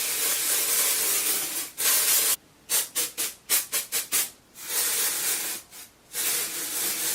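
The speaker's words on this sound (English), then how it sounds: "just spraying a little bit of this on will take away some of that shine" A long continuous spray hiss, then a string of short quick bursts, followed by another sustained spray onto a synthetic wig, close and fairly loud.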